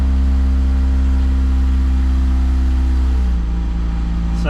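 A 2017 Lexus IS200t F-Sport engine holds a loud, steady mid-range drone near the microphone, its pitch stepping down toward the end as the automatic gearbox shifts while accelerating through the gears.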